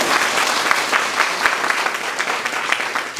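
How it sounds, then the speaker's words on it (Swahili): A crowd at a fishermen's rescue training on Bumbile Island, Kagera, applauds visiting experts: loud, steady, many-handed clapping that continues evenly with no break. "Wapigie makofi wataalamu"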